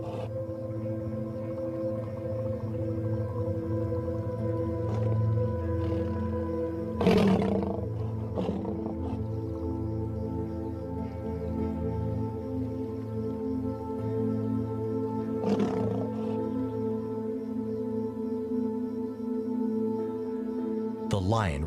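A young lion roars while fighting a crocodile on land. Deep, sustained growling roars rumble throughout, with sharper bursts near the middle and late on, under a narrator's voice.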